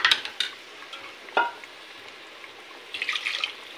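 Water is poured into a simmering mutton tikka masala gravy in a pot: a few short splashes and drips, then a brief, brighter pouring burst near the end, with no talk.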